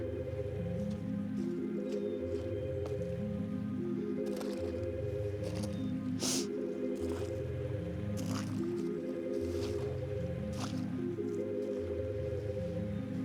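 Rubber boots squishing on a wet shore at low tide, a steady rhythm of wet, sucking steps, close and regular, with occasional faint clicks between them.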